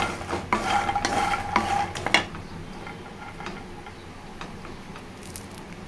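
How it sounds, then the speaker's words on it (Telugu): Vegetables frying gently in a pan over a low flame for a masala curry, with a soft sizzle, a few spoon stirs and light scraping clicks early on that fade into a quieter simmering hiss. "సిమ్లో పెట్టి ఫ్రై చేసుకోవాలండి"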